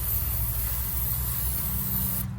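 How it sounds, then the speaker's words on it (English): Cleaner sprayed down around the front differential of a Subaru Impreza during an oil change, a continuous close hiss with low mechanical rumble underneath that cuts off abruptly near the end. "I then simply just spray down the area with some cleaner."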